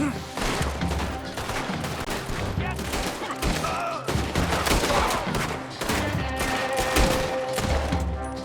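Dense gunfire from the video game Red Dead Redemption 2 rattles without pause, overlapping shots and booming impacts, loud and close throughout.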